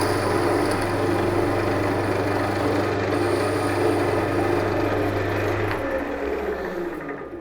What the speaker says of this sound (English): So I'm cutting the wood in the right direction.